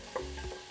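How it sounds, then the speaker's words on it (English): Onions sizzle in a hot pan as they are stirred, a short bright frying hiss with a quick scrape of stirring, close and alone without talk. "So you can hear our onions are sizzling. We'll just give those a little stir."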